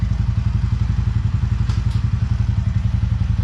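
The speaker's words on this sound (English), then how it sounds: "So let's power on the bike, and so this is how the bike sounds." A TVS Ronin 225 motorcycle engine runs close by, a loud, even low-pitched thumping idle that holds steady from start to finish.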